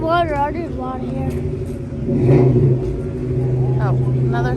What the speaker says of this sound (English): Oh, another car's coming.